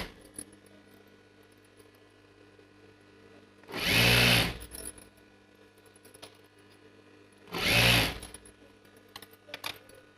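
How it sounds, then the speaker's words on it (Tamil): Sewing machine stitching a sleeve onto a ready-made churidar kameez over its piping, two separate loud bursts of roughly a second each, separated by quiet handling noises. "அது மேலே ஒரு தையல் போடுங்க. அது மேலே நம்ம தையல் போட்டுக்கிட்டே வரலாம்."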